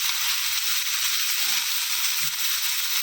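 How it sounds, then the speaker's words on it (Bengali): Fish fry in a pan with a steady, close hiss of hot oil running the whole time, broken by a few faint low bumps and no voices. "তো অপসি মাছগুলো প্রথমে ভাজা করে নিলাম"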